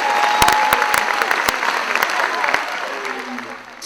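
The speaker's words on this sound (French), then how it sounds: "Est-ce qu'on peut applaudir pour eux," An audience at a live comedy show claps, a dense round of applause with a few sharp individual claps up front that gradually thins and fades, while voices carry on underneath.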